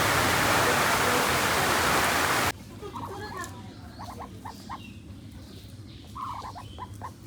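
Rain falls outside a village window, a dense, loud hiss of steady downpour. It cuts off abruptly after a couple of seconds to a quieter room with scattered small chirps and faint voices.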